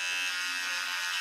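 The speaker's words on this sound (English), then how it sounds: "I can hear the shaver." An electric shaver buzzing steadily at home, a thin continuous high whine heard briefly, close but fairly quiet, no talking.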